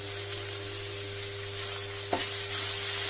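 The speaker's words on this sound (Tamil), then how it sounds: "இப்போ கைவிடாம ஒரு 3 நிமிஷம் கிளறினோம்னா சொரக்காய் வெந்துக்கிச்சு பாருங்க" Bottle gourd pieces being cooked down for halwa are stirred in a pan with a soft, steady sizzle over a low hum, and one sharp knock of the utensil against the pan partway through.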